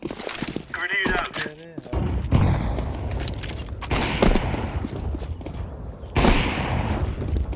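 A Counter-Strike match in the Vitality vs G2 Blast Premier grand final, with bursts of gunfire and a grenade blast coming in loud, chaotic waves while players talk over the action.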